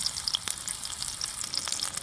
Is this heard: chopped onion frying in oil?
yes